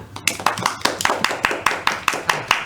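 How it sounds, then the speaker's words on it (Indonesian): A classroom of students clapping hands in a quick rhythmic pattern, sharp distinct claps in a steady beat, close and clear. "Tepuk tangan."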